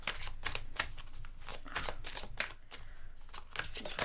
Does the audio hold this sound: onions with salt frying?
no